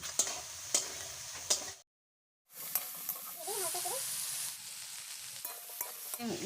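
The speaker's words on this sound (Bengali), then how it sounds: "তেল গরম হয়ে গেছে, গোটা লঙ্কা, তেজপাতা, কটা গোটা জিরে, সয়াবিনটা ভেজে নেব" Soybeans frying in hot oil with whole chillies, bay leaf and cumin give a steady, close sizzle with a few light taps and stirring scrapes, broken by a short silent gap before the crackle resumes.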